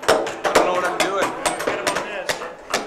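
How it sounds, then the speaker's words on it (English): Hammers strike nails during a wall framing competition, sharp irregular blows coming rapidly from several hammers at once. Voices talk underneath, and background crowd noise fills the space. "the hammering's going faster and faster"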